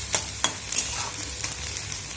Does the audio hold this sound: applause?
no